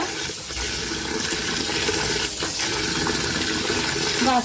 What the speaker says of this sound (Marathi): तर नळाला स्वच्छ धुवून घेऊया तांदूळ